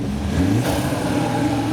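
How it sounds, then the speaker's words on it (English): A turbocharged 2020 Morgan Plus 4 engine revs up close, a steady mid-pitched drone that swells briefly before settling back to a sustained roar. "The Morgan is doing some revs too, joining in with the crowd."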